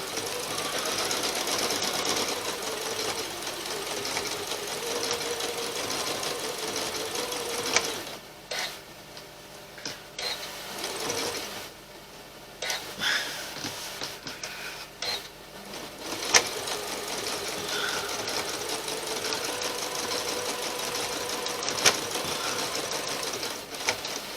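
A sewing machine stitches applique onto a Valentine table runner with a steady close whirring hum. The stitching stops briefly twice in the middle, then starts again, and no one talks.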